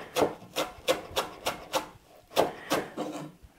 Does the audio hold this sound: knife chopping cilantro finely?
yes